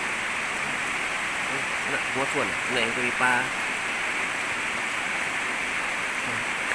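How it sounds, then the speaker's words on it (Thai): Heavy morning rain falls as a steady, even broadband hiss throughout, with someone speaking briefly over it midway. "ฝนตกแพงคัก"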